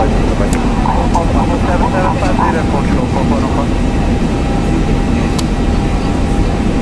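Boeing 737-800 engines spooling up in the X-Plane 11 flight simulator give a loud, steady roar with a rising whine layered over a constant low rumble.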